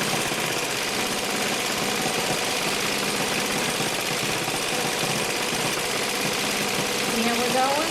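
An OmniStitch 2 sewing machine runs steadily while stitching zigzags, a fast even mechanical chatter that stays close and constant throughout, with a slight rise near the end.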